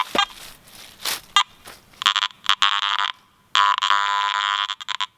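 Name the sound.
metal detector signaling iron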